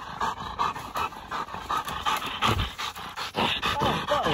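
A dog pants rapidly and steadily close by, with quick rhythmic breaths and a little rustling, no talking.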